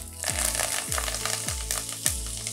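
Lentils and curry leaves crackling in hot oil in a pan, a dense close sizzle with four evenly spaced tonal ringing clinks like a utensil tapping the vessel, no voices.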